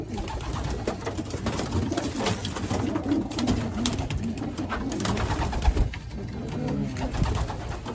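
Racing pigeons coo and murmur steadily inside a loft, a dense, continuous chorus of soft low calls at moderate volume with occasional wing flutters, and no talking.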